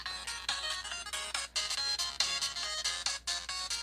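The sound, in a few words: music playing through a small phone speaker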